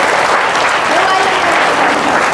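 A congregation at a Christian revival meeting bursts into loud, dense applause, a steady wash of many hands clapping close by with faint voices mixed in.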